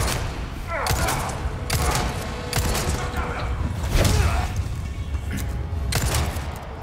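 Gunshots in Resident Evil 4 Remake ring out as separate loud, close reports spaced about a second apart across the stretch, mixed with thuds and mechanical clatter, while a voice talks over them at times.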